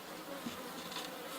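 Honey bees buzz in an opened horizontal hive, a dense steady hum of many bees heard up close and quiet.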